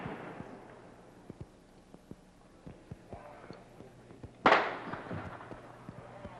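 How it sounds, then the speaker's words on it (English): Gunfire during the 1966 UT Tower shooting in Austin, Texas, with bullets reported ricocheting off the top of the tower: scattered sharp distant cracks, then one loud burst with a brief trailing echo, over a low murmur of background voices. "Ricochet bullets bouncing off the top of the tower."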